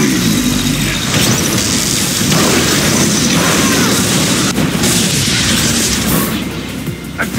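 Dense, continuous battle noise from Unreal Tournament III, a jailbreak match: loud booms and bursts of weapon fire run without a break across the whole stretch, with no clear gaps or lone shots.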